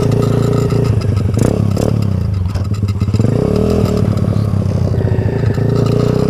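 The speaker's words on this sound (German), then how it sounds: "Ich bin hier gerade unterwegs auf einer fahrenden Bierkiste. 125 Kubik, fährt 85 km/h" A motorized beer crate with a 125 cc engine, able to reach about 85 km/h, roars loud and close, its revs rising and dipping with rattling and clattering over the steady drone.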